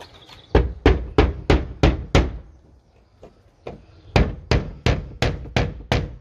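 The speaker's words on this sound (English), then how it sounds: "use a claw hammer, anything really, just to pull them out." A claw hammer strikes repeatedly while working nails out of a wooden fence, two runs of about six sharp, evenly spaced knocks separated by a brief quiet pause, loud and close.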